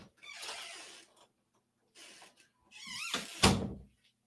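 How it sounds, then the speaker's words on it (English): An unoiled, squeaky door is swung shut and locked indoors: a few creaking scrapes and squeals, then a sharp clack of the latch near the end, close and fairly loud with quiet gaps. "Let me make sure my door is locked."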